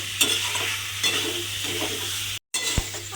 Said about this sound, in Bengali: এবার আলু আর পটলটা খুব ভালোভাবে কষিয়ে নিতে হবে আবারও